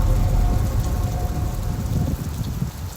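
Steady heavy rain of a thunderstorm pours down continuously, with a low rumble of thunder underneath, loud and close with no voices.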